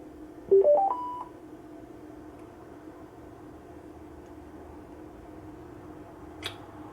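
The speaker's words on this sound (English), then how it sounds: "Like I said, we should hear a little startup chime." A Brookstone Big Blue Live speaker powers on with a short rising chime of a few quick tones, clear and close, followed by quiet room hiss and a faint tick near the end.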